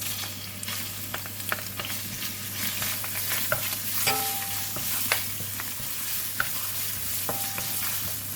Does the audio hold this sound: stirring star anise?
yes